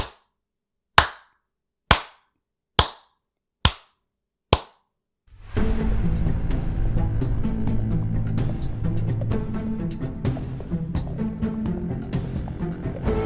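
Slow clapping sound effect in a tabletop role-playing podcast: six sharp, evenly spaced claps about a second apart, ringing slightly, then giving way to steady music.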